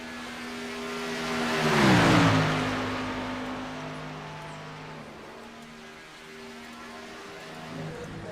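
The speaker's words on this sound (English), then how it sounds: "Field trying to catch the pace car." Race cars in the iRacing game sweep past in a tight field chasing the pace car at Daytona International Speedway, a loud engine drone that swells to a peak with a Doppler drop, then fades into a steady distant hum.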